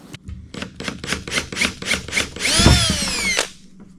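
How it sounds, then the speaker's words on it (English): A power drill with a bit bores a hole through a foam pool noodle for an eye bolt, several short whirring pulses building to a longer rising whine before stopping, close and loud. "let's drill the hole for our eye bolt. And I just got a drill here and just a drill bit that's barely smaller than this eye bolt"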